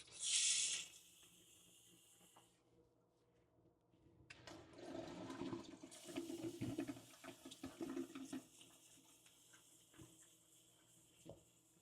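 An RV toilet flushes with a liquid black and gray tank treatment, opening with a loud, close rush of water that gives way to a longer stretch of running, gurgling water refilling the bowl.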